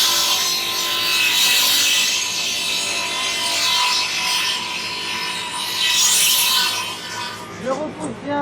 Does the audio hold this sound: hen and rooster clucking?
no